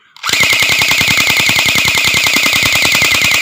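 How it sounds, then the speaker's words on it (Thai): A toy M4A1 gun fires on full auto in one unbroken, very loud and fast stream of rapid mechanical shots lasting a few seconds, close up with no talk. "ผมโหลดลูกแล้ว ยิงดู แบบมันออโต้เลย"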